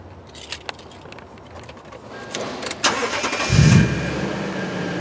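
A 2010 Toyota Tundra CrewMax pickup engine starting: faint clicks and a key jingle, then the starter cranks and the engine catches with a swelling roar that settles into a steady idle, close by.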